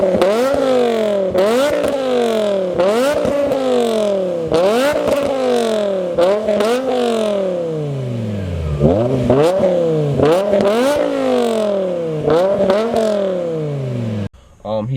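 A BMW E60 M5 V10 with Manzo race mufflers and a primary cat delete revs hard again and again, each rise snapping up and falling back in a loud raspy wail, close by, about a dozen blips in a row.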